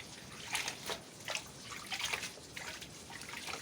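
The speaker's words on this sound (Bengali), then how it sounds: "বন্ধুরা দেখুন, আমরা শাক ধুচ্ছি, শাক ধুই ওঠাচ্ছি।" Leafy greens are washed under a tap, with several short bursts of splashing and dripping water close by, fairly quiet overall and with no talking.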